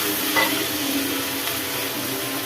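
Two medium-sized tomatoes sautéing in a pan for a brinjal kadayal, with a steady, even sizzling hiss and a faint stir or two.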